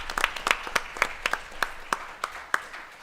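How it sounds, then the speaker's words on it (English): A small audience at a high school board of education meeting claps sparsely: a dozen or so distinct, loose claps spread over three seconds, thin and fairly close, rather than a full ovation. "Please give her a round of applause."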